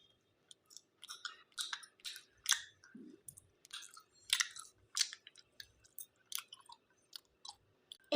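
Gummy burger candy is chewed close to the mic, a stream of sticky, squishy bites and mouth clicks coming in irregular bursts with short quiet gaps between them.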